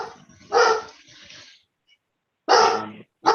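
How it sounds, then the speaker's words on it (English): A dog barks indoors at home during a town board meeting, giving two loud, close bursts of barking separated by a short silence, with a third bark starting at the end. "it's the sound of the dog."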